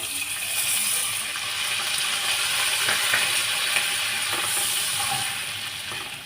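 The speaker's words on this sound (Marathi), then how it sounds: "हे मी पाणी घालते" Steady, bright sizzling hiss of about half a bowl of water hitting a hot pan of garlic butter chicken, continuous and fairly loud throughout with no voices.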